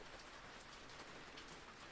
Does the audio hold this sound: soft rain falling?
yes